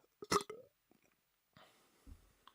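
A short, close burp with a throaty, low rumble, followed by a brief breathy exhale in an otherwise quiet space.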